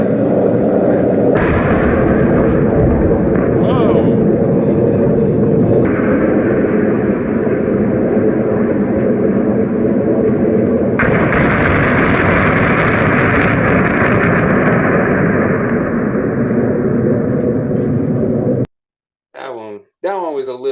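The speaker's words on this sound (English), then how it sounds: "Those were cluster bombs." Sustained roaring rumble and rolling booms from cluster bomb explosions during the bombing of Aleppo, loud and continuous for most of the stretch, then a sudden cut to near silence with brief fragments at the end.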